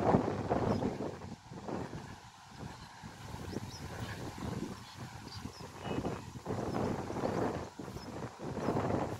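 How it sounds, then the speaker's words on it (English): Wind buffets hard and fairly steadily for several seconds, with gusty rumbling swells and dips and no voices. "And there's more wind."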